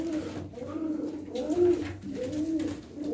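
Pigeons coo in a repeated rolling pattern, several soft throaty calls rising and falling close by, with a faint background hum and no talking. The birds are blue-grizzled tumbler-type flying pigeons.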